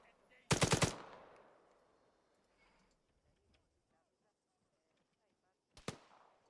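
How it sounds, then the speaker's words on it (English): Machine gun bursts in the video game Antistasi: a loud, tight burst of rapid shots near the start that rings out and decays, then one more short burst near the end, with some faint talk in between. "The one time I don't want him to use his machine gun, he's using it."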